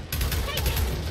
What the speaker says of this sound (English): it's just a sniper trying to shoot us